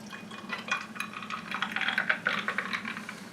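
Reddish-brown drink poured from a bottle into a glass, a quiet close trickle and splash with clinks and liquid gurgling building over a few seconds.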